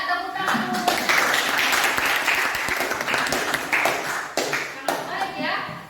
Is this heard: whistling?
no